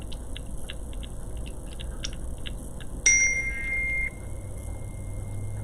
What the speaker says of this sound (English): sorry for that beeping.